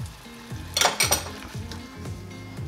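Butter and honey dropped into a reducing sauce in a pan on a salmon dish, giving a soft sizzle with a few clinks of a utensil against the pan near the middle, no talking.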